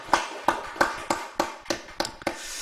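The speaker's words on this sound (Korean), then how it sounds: "우리 하나님 앞에 영광의 박수 올려드립니다" During a Friday late-night worship service at a church, a congregation claps in praise: a run of about eight distinct, fairly evenly spaced claps, close and sharp, with little else around them.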